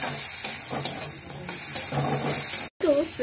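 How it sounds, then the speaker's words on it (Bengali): Chickpeas with turmeric are stirred in a frying pan, giving a steady sizzle and hiss with soft scraping strokes throughout, close and fairly loud. "আমরা এক চুটকি মতো হলুদ দিয়ে দিলাম, আর এবারে কাবলি ছোলা গুলো এর মধ্যে আমরা মিশিয়ে নেবো।"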